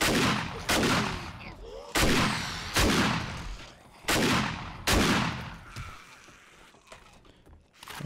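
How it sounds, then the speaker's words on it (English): Shotgun blasts from the video game 7 Days to Die, four loud booming shots spaced roughly a second apart, each with a ringing decay, followed by quieter rustling and faint knocks. "Wow, this shotgun is just ridiculous."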